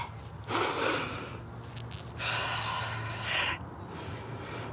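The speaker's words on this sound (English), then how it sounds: "Take 3 deep breaths." Slow, deep breaths drawn in and let out, two or three long airy swells about a second apart, close and fairly loud, with no talking and a low steady hum underneath.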